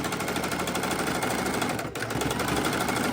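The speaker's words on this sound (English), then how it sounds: "So you can easily sew over this twice." A sewing machine steadily stitching through the fabric of a microwave potato bag, a fast even mechanical whir with a brief hitch near the end, heard close and alone.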